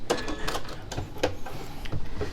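Sewing machine backstitching to lock the stitches on a reversible tote bag, heard as a run of quick, close mechanical whirring bursts with short pauses between them.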